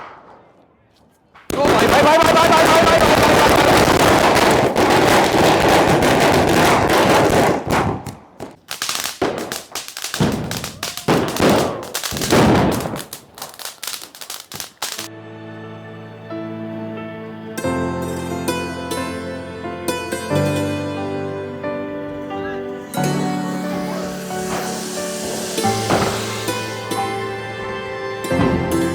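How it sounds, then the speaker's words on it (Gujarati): A long string of a thousand firecrackers bursts during a family Diwali celebration outside a home, loud rapid crackling for several seconds, then music and a voice take over while scattered pops continue. "1000 ફટાકડાની સળ છે, બરોબર"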